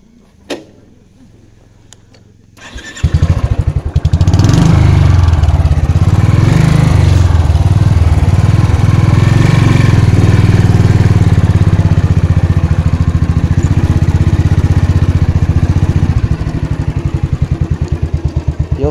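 A motorcycle engine starts with a sharp burst after a few quiet seconds, then runs loud and steady close by with a rough, clattering idle that lasts the rest of the clip, with no talk over it.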